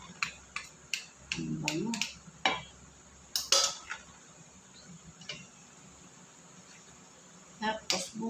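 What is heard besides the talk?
mixing macaroni salad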